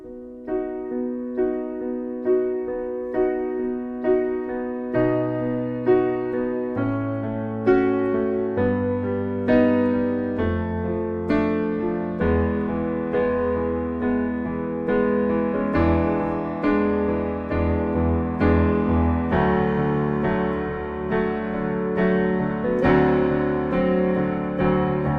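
A piano plays the intro to a song, slow sustained major chords with a descending bass line, steady and clear with no talking over it.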